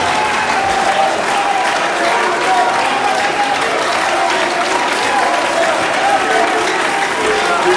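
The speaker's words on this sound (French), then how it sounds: "On va nous salve d'acclamation." A church congregation at a Sunday service breaks into loud, sustained applause and cheering acclamation, a dense continuous wash of clapping with voices mixed in.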